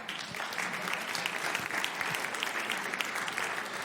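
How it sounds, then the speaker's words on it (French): A seated audience applauds steadily for about four seconds, dense clapping from many hands filling a hall at a French-language session, with no voices standing out over it. "On peut les applaudir, je crois."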